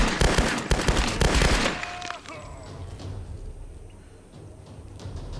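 Rapid gunfire in the video game Tomb Raider, a dense loud burst of shots in the first two seconds that cuts off abruptly, followed by quieter game ambience.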